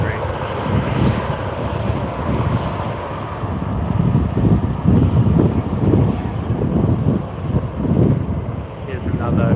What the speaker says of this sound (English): Qantas 787-9 Dreamliner in the Yam Dreaming livery.